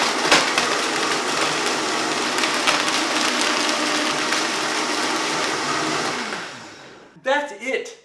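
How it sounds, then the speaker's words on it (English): A blender runs on high, whirring loud and steady for about seven seconds as it blends a smoothie, then stops, followed by a brief voice. "So I'm gonna blend this."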